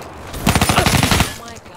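Short burst of rapid automatic gunfire in Black Ops 3, loud and close, about a second of fast repeated shots with no talking.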